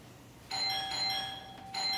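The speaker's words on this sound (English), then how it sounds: "Whoever is at the door won't stop ringing the doorbell." A doorbell chimes two times in a row, with clear ringing tones sounding close in a quiet indoor room. No one speaks while it rings.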